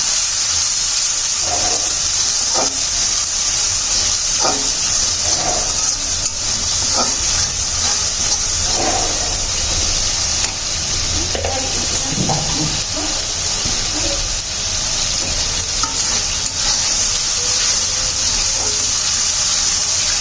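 Spice masala with turmeric powder and salt sautéing in a pan for a koi fish curry, giving a steady close hiss of steam and sizzle broken by intermittent scrapes and stirs.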